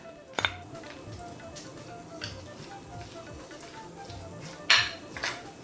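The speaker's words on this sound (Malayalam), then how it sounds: "ഇതിലേക്ക് ഇനി നമുക്ക് പച്ചമുളകും കറിവേപ്പിലയും ഒന്ന് ആഡ് ചെയ്യാം" Green chillies and curry leaves go into a hot pan with a few sharp metallic clinks and scrapes of utensils against cookware, over a low steady kitchen background with a faint sizzle.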